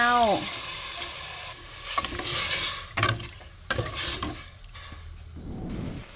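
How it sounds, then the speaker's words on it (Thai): Water poured onto stir-fried curry paste in a hot pan, for a home-style young jackfruit curry with pork, gives bursts of loud sizzling and bubbling with scraping stirring sounds, alone and close. "นี่เจ้าคั่วมากรามเขาก็เติมน้ำลงเลยเจ้า"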